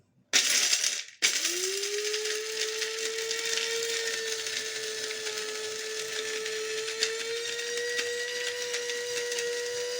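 A BİM Kiwi Premium coffee and spice grinder switches on after a brief click and then runs with a steady, close, high-pitched motor whine that holds unbroken for about nine seconds.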